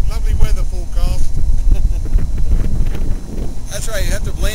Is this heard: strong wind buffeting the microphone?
yes